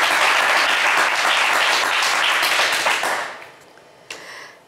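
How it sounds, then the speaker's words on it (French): A studio audience at a French game show applauds loudly and densely for about three seconds, then the clapping fades out, leaving a brief quiet stretch with a faint tap. "on vous applaudit très fort"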